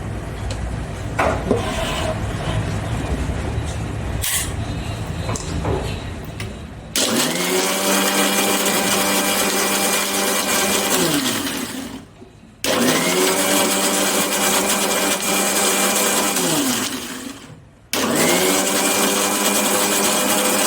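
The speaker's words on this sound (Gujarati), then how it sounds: "હવે ઢાંકી અને મિક્સરમાં ગ્રાઇન્ડ કરી લઈશું." Mixer grinder blending a Kathiyawadi-style milk mixture, running in three loud whirring bursts, each with a rising whine and a short pause between, after a quieter stretch of handling noise at the start.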